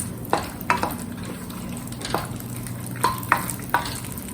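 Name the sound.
sauteing tamarind and chutney ingredients in a pan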